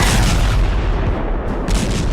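Bombs explode in war footage of airstrikes on Syria, a loud deep boom rumbling through the clip with heavy low-end roar and a brief dip before a second burst, no voices.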